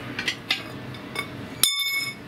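Metal rods pulled from a Lifedoo fire pit, several light clinks and taps followed by a sharp bright metallic ring that hangs briefly, close by.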